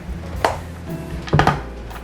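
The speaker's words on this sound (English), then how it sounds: "we're just cutting up the chunks here" A knife chops chocolate chunks for brownies on a board, two distinct clacking cuts with a faint tap between, close and alone without talk.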